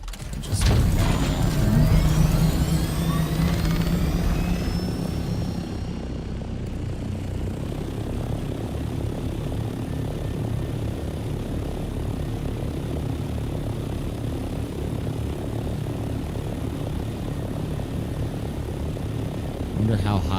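Aircraft engine drones steadily and fairly loud throughout in the Dune Awakening game as the craft flies back to base, with a brief louder swell in the opening seconds, no talk over it.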